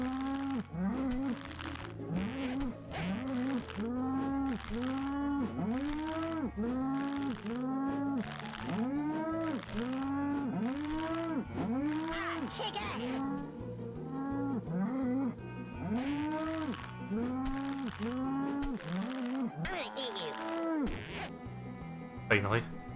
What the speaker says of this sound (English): That one cow that was just stuck there making all that noise.